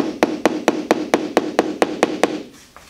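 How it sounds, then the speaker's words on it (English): Ten gentle, evenly spaced metal taps from a hammer striking a flat screwdriver against a BMW 700/800 fuel pump retaining ring, close and clear, then a brief quiet tail. "I'm going to take my hammer and my flat screwdriver, and I'm going to gently tap that around"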